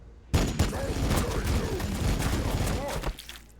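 Sustained volleys of gunfire from units in a Warhammer Battlesector multiplayer battle, a dense roar of rapid shots lasting about three seconds, loud and close with faint game voice effects mixed in.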